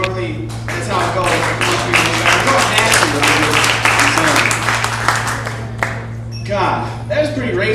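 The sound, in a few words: audience clapping at comedy show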